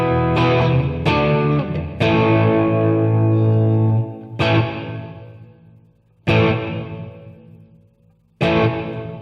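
Distorted guitar chords ring through a Boss Katana amplifier's hall reverb, struck one after another at a steady pace, each blooming and then fading away in a long, spacious tail before the next hit.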